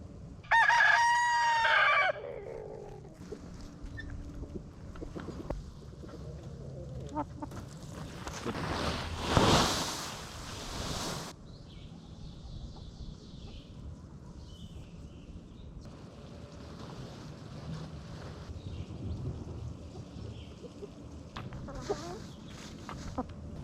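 Chickens at an off-grid homestead coop, opening with a loud rooster crow up close, then scattered soft clucks and rustling continuing at low level, with a brief louder burst of noise near the middle.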